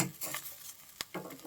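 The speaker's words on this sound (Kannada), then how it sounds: "ಸೊ ಈ ರೀತಿ ಚೆನ್ನಾಗಿ ಹುರ್ಕೋಬೇಕು" Coconut, tamarind, chillies and greens stir-roasted in a little oil in a pan: soft, close scraping and clinks of a ladle against the pan in irregular strokes, with a faint sizzle and no talk.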